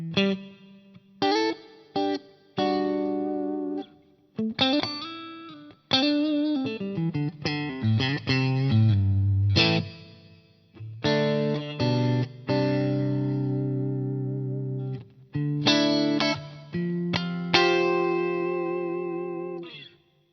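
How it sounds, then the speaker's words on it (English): Clean electric guitar played through a rich plate reverb, with picked notes and chords ringing out into long, smooth tails that fill the gaps between phrases. "Just a beautiful sounding reverb."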